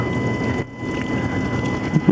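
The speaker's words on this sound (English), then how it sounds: "the storm's almost over, but still bad weather" Thunderstorm wind gusts rumble over a rough outdoor background with a low rolling roar, briefly dipping then surging again, like stormy weather.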